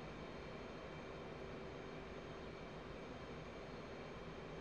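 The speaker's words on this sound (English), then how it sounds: "The jet's going to build back up some speed. We're just going to keep steadily climbing." A steady, continuous roar of an F/A-18C jet engine during a climb in the flight simulator DCS World, sustained and even throughout with no speech.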